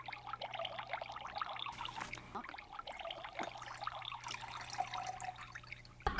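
Water poured into a cup from a library sound effect, a steady close trickle and splash running for several seconds with no voices.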